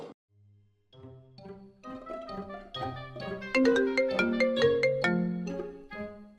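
A phone ringtone rings in a Tamil comedy sketch, playing as a bright, steadily building melodic tune of layered tones that grows louder and fuller over several seconds, with no talk over it.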